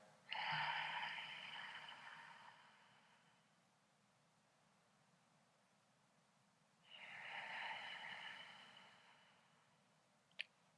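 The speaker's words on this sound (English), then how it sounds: "as you exhale, audible sound so that you can hear it, imagining you're breathing through a hole in the throat" Ujjayi breathing during a vinyasa yoga class: two long, hissing, throat-constricted breaths, close and soft, each a few seconds long and separated by a quiet pause.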